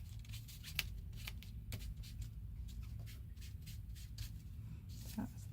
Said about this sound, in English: Just need to trim this excess of white off from my scan and cut.